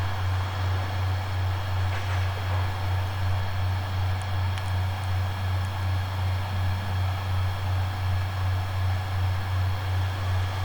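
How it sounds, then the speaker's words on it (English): Class 66 diesel freight locomotive 66781 heading to London Gateway passes through Stratford station, with a loud steady engine drone and rolling wagon rumble continuing throughout, close by. "66781 to London Gateway was coming through."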